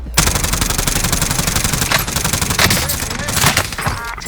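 Sustained automatic gunfire from a tactical shooter video game, dense rapid bursts layered into a continuous loud fusillade with sharper shots standing out near the end.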